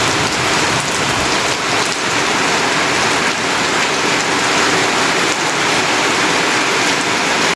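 A downpour in a dawn thunderstorm keeps up a loud, constant roar of rain hitting surfaces nearby, unbroken and free of speech for the whole stretch.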